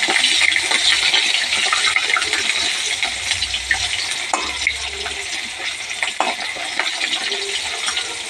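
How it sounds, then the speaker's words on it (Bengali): Pointed gourd (potol) slices fry in a pan in a home kitchen, giving a steady, close, bright sizzle with faint scraping throughout and no voices. "এদিকে একটু পটল ভাজা বসিয়ে দিয়েছি।"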